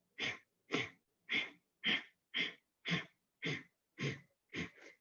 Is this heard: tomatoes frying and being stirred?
no